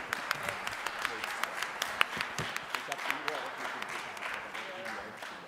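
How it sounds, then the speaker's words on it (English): A round of applause for panelists after a policy discussion on a digital minimum age, fairly faint and distant, with individual sharp claps standing out from the steady wash and voices murmuring beneath. "A round of applause, I think, for our panelists and the discussion today"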